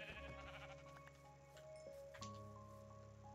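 A donkey in the Minecraft video game brays in a few short, nasal bleating calls, heard fairly clearly over quiet game background sounds.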